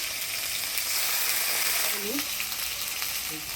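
A paste of tomato, ground spices, ginger and chilli fries in a pan with a steady close sizzle, a few faint tonal squeaks near the end, no speech.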